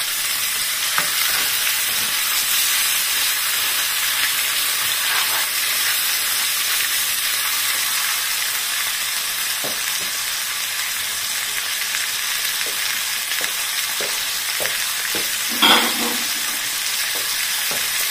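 Potatoes frying in a pan for a lamb curry give a steady, close sizzle with hissing steam, with occasional faint clinks and a brief louder spatter near the end, and no talking.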